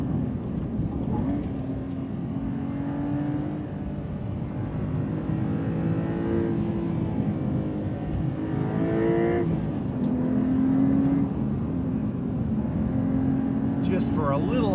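A 2025 Porsche 911 Carrera T engine revs during manual downshifts, its pitch climbing and falling in sweeps under a steady cabin drone while someone talks over it throughout.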